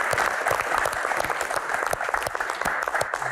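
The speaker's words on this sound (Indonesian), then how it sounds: "tepuk tangan" An audience at a Q&A rally bursts into dense, continuous applause, loud and close, with many overlapping claps forming a steady roar and a few sharper claps cutting through.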